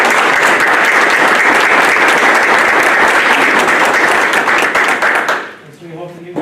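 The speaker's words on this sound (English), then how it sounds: "If you could just give you guys a self round of applause" Applause at a school district board of education meeting, a loud steady crowd clapping that fades out near the end before a voice begins speaking.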